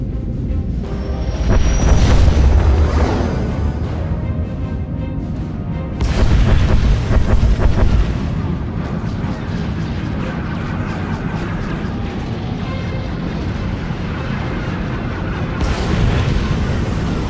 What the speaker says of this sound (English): Proceeding with bombardment, targeting infrastructure and industrial objectives only.